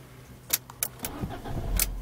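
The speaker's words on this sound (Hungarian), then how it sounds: "Hát így indul az autónk." A Fiat Stilo 1.6 16V is started: a couple of sharp clicks come first, then the engine cranks and catches into a low, steady rumble that grows louder close by.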